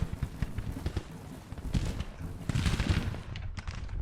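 Cannons fire in the Civil War strategy game Grand Tactician, a steady barrage of overlapping booms and cracks that rolls on for a few seconds and grows denser toward the end.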